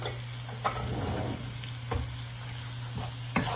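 Turmeric powder sizzling in hot oil in a pan for a spicy mixed vegetable dish, a soft steady fizz with a low hum underneath and a few sharp spoon clinks, close and quiet without talk.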